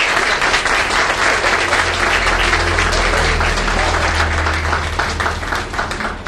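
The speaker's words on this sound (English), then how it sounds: "So I want to give those guys a round of applause." An indoor audience at a training center event gives a sustained round of applause, dense steady clapping from many hands throughout, fairly close and loud.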